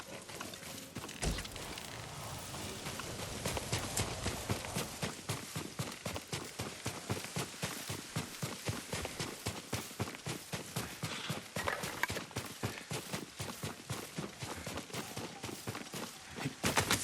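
A horse's hooves clip-clop in a fast, steady rhythm for a long stretch as the horse is ridden away, dense and continuous with no voices.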